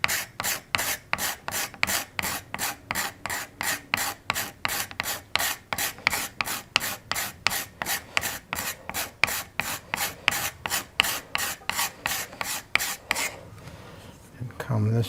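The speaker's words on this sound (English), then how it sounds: "I like to take the scraper blade and smooth that out." A scraper blade smooths a turned wooden spindle in about thirty quick, evenly paced rasping strokes, loud and close, before the scraping stops near the end.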